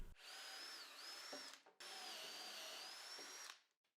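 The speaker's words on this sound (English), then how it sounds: "I really made sure not to drill all the way through the feet." A power drill with a Forstner bit whines steadily as it bores into the solid wood feet of a bed frame, pausing briefly, then runs again before winding down.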